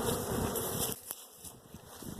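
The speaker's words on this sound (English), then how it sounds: "when I shook them, a lot of bees went right down and into the colony, and then some picked up and took off" Honey bees buzz loudly and densely just after being shaken from a brood frame at the hive, then thin to a softer, scattered hum as some fly off.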